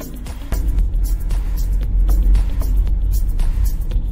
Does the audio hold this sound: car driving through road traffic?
yes